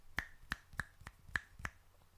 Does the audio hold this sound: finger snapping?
yes